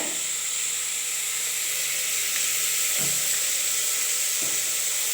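Onions sautéing in a pan with turmeric, a steady close sizzle and hiss throughout with a few faint stirring knocks.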